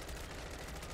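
Call of Duty MWZ Zombies gunfire fills the moment as a rapid, dense stream of shots, fairly quiet and continuous throughout.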